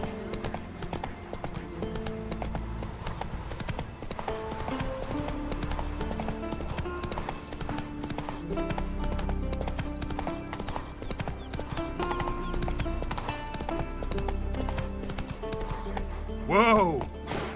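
Hooves of Roach, a horse in the video game The Witcher 3, clip-clop steadily under continuous music and game ambience, with a brief whinny near the end.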